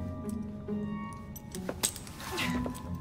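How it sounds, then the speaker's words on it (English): Keys being handed over give a brief, faint jangle and a few metallic clinks against a quiet background. "Now hand over your keys."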